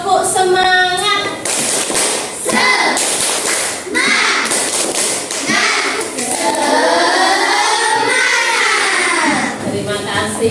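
A primary school class doing a rhythmic 'tepuk semangat' cheer clap with their teacher, sharp sharp claps in patterned bursts mixed with children chanting and a voice leading the routine.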